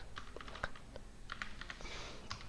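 Fingers tap quickly on a computer keyboard, a soft irregular clatter of keystrokes heard close and alone against faint room noise.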